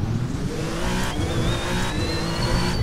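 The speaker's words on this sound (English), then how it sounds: "waiting for this Toyota TSO50 LMP1 car to roar to life" A Toyota TS050 LMP1 race car's engine roars steadily and loudly up close, with a rising whine building through the sustained run.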